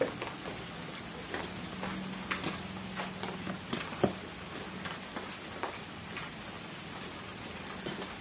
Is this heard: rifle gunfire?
no